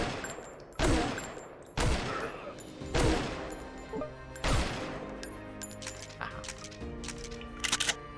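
Heavy gunfire in a post-apocalyptic crafting video game, with four or five loud, booming shots spaced about a second apart, trailed by fainter echoing reports and clatter.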